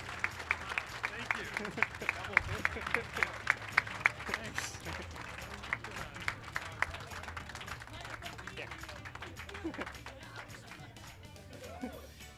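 A demo day audience at the Intuit Prosperity Accelerator applauds the winning startup, NetNow: a burst of crisp, close hand claps for several seconds that settles into a softer, diffuse crowd wash.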